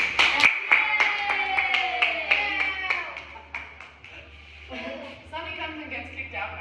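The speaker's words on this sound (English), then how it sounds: "Everyone clap for me." People at a camp clap in an even, rhythmic beat, with sharp, close claps under loud voices, then the clapping thins out as the talking continues.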